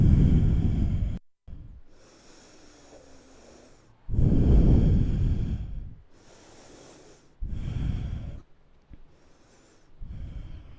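Heavy breathing during a seated yoga twist: several loud, close exhales through the nose and mouth, each lasting a second or two, separated by quieter pauses, with no talking.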